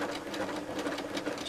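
A quilting sewing machine runs close by as it stitches around a cushion corner, a quiet, steady rapid whirring that continues evenly throughout.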